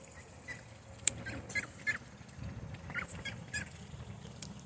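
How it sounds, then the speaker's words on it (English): Chickens eating duck food outdoors, giving scattered soft clucks and short squawks at a distance over a faint background hum, with no talking. "The chickens are coming over."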